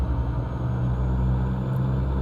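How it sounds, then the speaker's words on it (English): Steady low engine drone of a big rig in American Truck Simulator, held at high revs in first gear on a New Mexico run, droning evenly and fairly loud with no voices. "I'm totally over revving."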